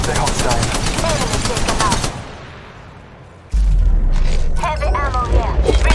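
Heavy automatic gunfire in a battle royale game, rapid bursts that stop briefly and then resume with a deep boom, with speech-like sounds partly overlapping the shots.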